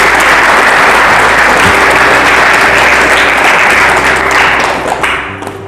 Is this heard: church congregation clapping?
yes